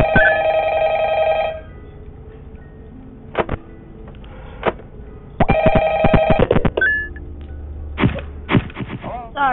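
A game phone rings in Ultimate Custom Night on mobile, sounding as repeated electronic ring bursts with sharp clicks and game effects between them.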